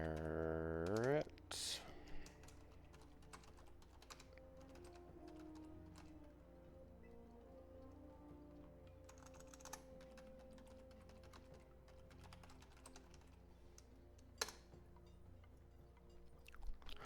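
Someone types on a computer keyboard, producing quiet, irregular key clicks in scattered bursts over a soft, low background hum.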